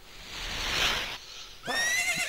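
A horse whinnies in The Legend of Zelda: Ocarina of Time, a high wavering neigh followed after a brief gap by a second bright, rising whinny, heard clearly over a game background.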